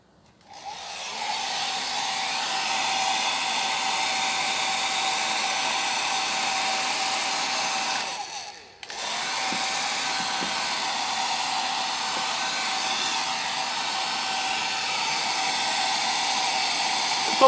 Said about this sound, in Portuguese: Tô passando o secador porque aparenta que ele ainda tá molhado